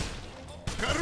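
Gunfire in the Wolfenstein video game during a battle at a train station: a sudden loud burst of shots cuts in partway through after a rumbling, noisy lull.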